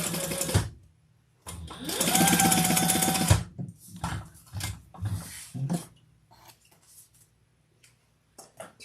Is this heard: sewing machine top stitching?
yes